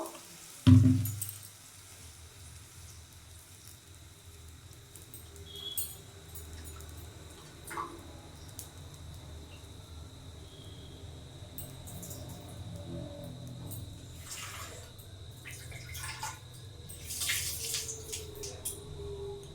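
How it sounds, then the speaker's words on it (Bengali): Mung dal being rinsed in water in a kitchen: a sharp knock at the start, then soft intermittent sloshing and trickling, with slightly louder splashing toward the end. "মুগ ডালটা দুবার ধুয়ে নিয়েছি আর ধোয়ার দরকার নেই"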